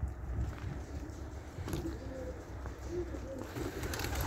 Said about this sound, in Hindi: फिर छत बैठी है जंगली कबूतर